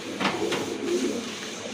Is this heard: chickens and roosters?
no